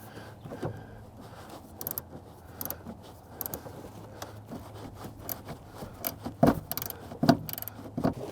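Small metallic clicks and rattles as a magnetized socket threads nuts back onto the emblem studs of a C4 Corvette, close and quiet, with sharper ticks clustered near the end and no talking.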